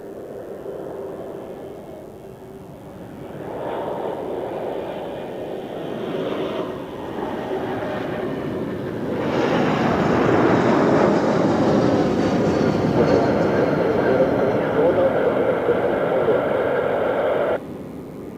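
Royal Jordanian Embraer jet at Zurich Airport, a steady broadband engine roar that swells in stages and holds loud for several seconds before cutting down near the end, with no talking.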